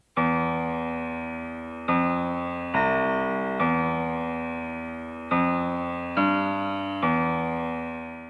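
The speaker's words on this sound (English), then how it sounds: "we did try to dirty up these keys a little bit with an RX 950 and a chorus" Keys dirtied with an RX 950 sampler and chorus, mostly top end, play a sequence of sustained chords in a trap beat. Each chord starts with a sharp onset and slowly decays, changing roughly every second.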